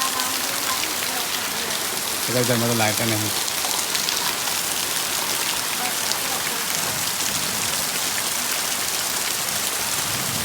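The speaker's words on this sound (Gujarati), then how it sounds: "ફૂલ વરસાદ ચાલુ છે" Dense, heavy rain pouring steadily throughout, with a short burst of voice briefly rising over the downpour.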